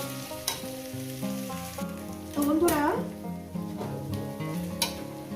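Rui fish belly pieces fry in a pan, a continuous sizzle with stirring scrapes throughout, under background music; a voice speaks briefly partway through.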